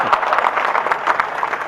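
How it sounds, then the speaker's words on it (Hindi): A live audience claps steadily at a Haryanvi comedy poetry show, a dense, even wash of applause that runs unbroken throughout. "आपकी तालियां चाहूंगा साहब"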